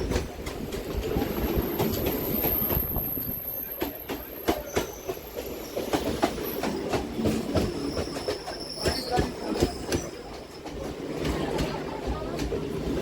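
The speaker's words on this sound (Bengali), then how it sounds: "এটা শিয়ালদা লক্ষ্মীকান্তপুর লোকাল" A Sealdah–Lakshmikantapur local train runs on rails near Ballygunge and Picnic Garden in Kolkata, giving a steady loud rumble with rhythmic wheel clatter, bursts of high squeal and sharp clanks throughout.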